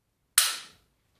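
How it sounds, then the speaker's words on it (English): A Glock 19 pistol with an aftermarket barrel and trigger has its slide racked once, a single sharp metallic clack that fades quickly in otherwise silent surroundings. "I'll rack the slide for you again so you guys can see that"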